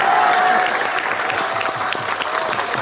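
An audience at a political rally claps in a steady, dense round of applause that holds at an even level throughout.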